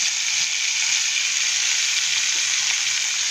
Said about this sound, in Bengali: তেলের মধ্যে এটাকেও ফ্রাই করে নেব